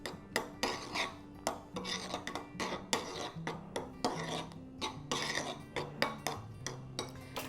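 A spoon stirs coffee crystals into an ice cream mixture in a bowl, scraping in a steady repeated rhythm of rasping strokes, close and fairly loud, with no talk.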